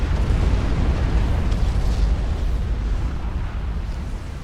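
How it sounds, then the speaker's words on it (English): An artillery shell explodes in the strategy game Supreme Commander: Forged Alliance, with a heavy rumbling blast that rolls on for several seconds and slowly fades. "And an artillery shot hits B in the face."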